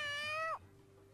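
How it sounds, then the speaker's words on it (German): A cat named Rollo in the video game Tales of Xillia 2 lets out a single clear, drawn-out meow that falls off at the end, leaving a quiet hum behind. "Ja, schön, dass die Katze antwortet für mich."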